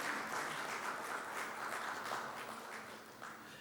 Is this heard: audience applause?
yes